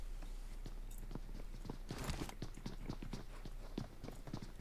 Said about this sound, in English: He hears those footsteps